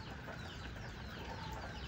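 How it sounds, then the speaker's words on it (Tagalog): Backyard pet chickens on a small farm cluck and chatter in a steady, dense flock murmur at close range, with overlapping soft calls and no talking over them. "Yung ating mga alagang manok."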